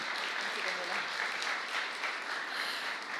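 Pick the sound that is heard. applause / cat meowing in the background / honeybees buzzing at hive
applause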